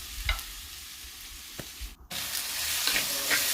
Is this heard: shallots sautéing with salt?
yes